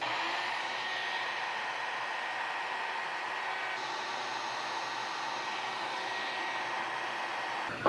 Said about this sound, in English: This time we'll get an even deeper cut and rounder cut for this control section.